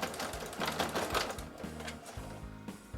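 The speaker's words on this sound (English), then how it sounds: "proceed to stitch forward, keeping the edge of your bias tape in line with that groove on the left" A Kenmore Model 385.16231 sewing machine stitches bias tape onto an apron fabric, its needle mechanism running in a steady, rapid mechanical chatter with rhythmic thumps, close and fairly loud throughout.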